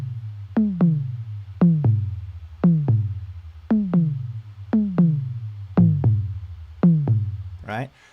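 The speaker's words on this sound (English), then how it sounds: "it had those like kind of classic Simmons toms" Classic Simmons-style electronic tom patch on a Yamaha EX5 synth plays a rhythmic run of pitched, descending tom hits in quick pairs, loud and punchy with short decays, ending in a brief noisy burst.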